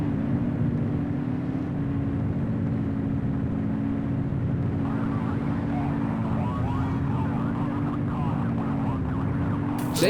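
A wailing police car siren in the video game The Precinct, a steady tone with slow pitch sweeps over a car engine's rumble, heard throughout at moderate loudness.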